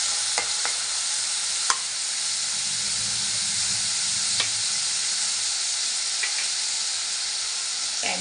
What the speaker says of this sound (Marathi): व्यवस्थित परतून घेऊया आपण। लालसर होईपर्यंत परतवायचं आपल्याला